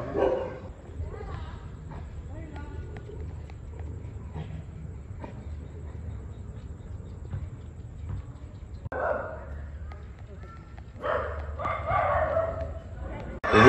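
Dogs bark and yip off and on at an outdoor party, scattered sharp calls rising in a busier stretch near the end, with people talking in the background throughout.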